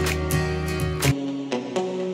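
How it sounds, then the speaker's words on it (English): A muted guitar sampler patch in Cubase, with EQ, ping pong delay and room reverb, plays short plucked notes for a song; a brief clean phrase over a low bass that drops out midway. "As we continue, we have this muted guitar coming in."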